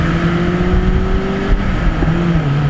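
A Nissan S13 240SX fitted with an HKS Hi-Power exhaust, headers and cat drives past, its steady engine drone holding a sustained tone that shifts slightly in pitch as it goes by, loud and close with no talk.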